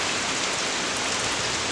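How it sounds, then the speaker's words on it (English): Steady rain pours down in a dense, even hiss of drops on surfaces, close and loud with no pauses or voices. "well, the rains came in, so today's Saturday."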